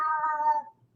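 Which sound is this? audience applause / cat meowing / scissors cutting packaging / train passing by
cat meowing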